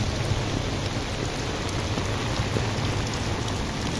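Heavy rain pours steadily during flooding in Recife, Pernambuco, a dense, even hiss of water on surfaces with no pauses and no voices.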